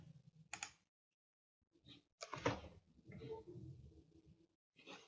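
Keystrokes on a computer keyboard come in short, quiet bursts separated by pauses, sounding faint and close in a hushed room.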